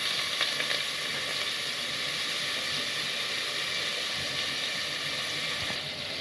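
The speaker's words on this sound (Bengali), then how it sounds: "এদিকে আমি আদা বাটা দিয়ে দিচ্ছি" Ginger paste sizzles in hot oil as it fries for a meat curry. The hiss is steady and close, holding at one level with no break and no voices.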